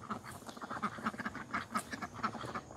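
Ducks on a small backyard farm quack in a rapid, repeated chorus, calling steadily at moderate distance and fairly softly with no talk over them.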